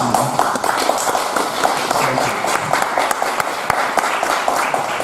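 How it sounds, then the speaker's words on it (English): An audience applauds to welcome speakers at a Kickstarter event at Chaihuo x.factory, with dense, steady clapping filling the room throughout and no voices standing out. "let's give a round of applause and welcome our speakers"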